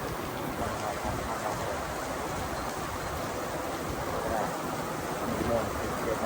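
Steady rain falling at a fuel station stop along a motorbike ride: an even hiss of drops on surfaces, continuous and moderately close, with no speech.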